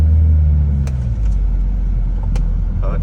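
Steady road rumble from car traffic on a highway, loud and continuous with a low engine drone throughout and brief passing swells, no talking.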